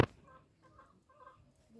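Black local chickens cluck softly in short, separated bursts, fairly close but faint, with no one talking over them.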